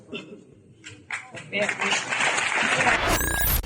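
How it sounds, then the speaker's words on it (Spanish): A crowd bursts into applause after quieter murmuring, clapping building and holding steady, with a sharp high-pitched squeal near the end. "Aplaudían los muchachos y muchachas"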